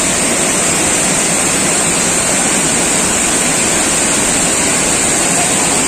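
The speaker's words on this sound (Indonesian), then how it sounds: "Air terjun" Third tier of the Lubuk Hitam waterfall in West Sumatra, a strong fast-flowing cascade, roaring as steady, loud broadband white noise throughout with no voices.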